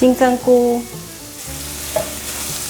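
Carrots and mushrooms being stir-fried in a wok make loud sizzling and clattering, with scraping stirs over a steady frying hiss. A short spoken phrase is heard at the start.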